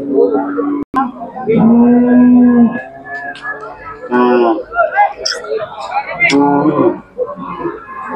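Cattle at the Sangola livestock market, including Khillar cows, give drawn-out lowing calls close by amid a busy market crowd, with several people chatting over them.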